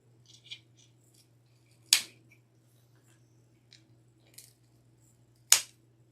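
Scissors trim craft material while a styrofoam-ball snowman is being made, producing a few sharp, isolated snips spaced seconds apart, close and crisp over a quiet background hum.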